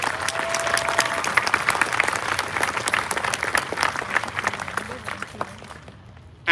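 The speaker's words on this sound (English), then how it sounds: "Let's give our ASB students a big round of applause." Audience at a school graduation applauding students, a dense, steady burst of clapping from a sizable crowd that fades out toward the end.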